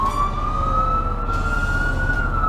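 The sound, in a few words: fire truck siren, second switch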